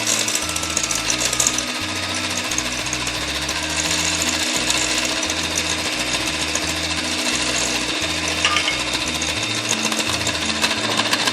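An electric mixer whisks egg whites with sugar for meringues, a loud continuous motor whir with rattling beaters that speeds up and holds steady throughout.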